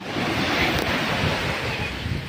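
Sea waves washing onto the shore at the coast, a loud continuous roar of surf mixed with heavy wind buffeting the microphone, no voices.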